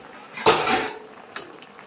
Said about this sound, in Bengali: তো এবার ঢাকনাটা খুলে দেখবো যে এচড়টা সেদ্ধ হয়েছে কিনা।